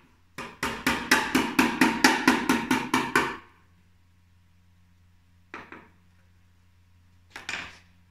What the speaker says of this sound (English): Hammer, and I'm just going to lightly tap it the rest of the way.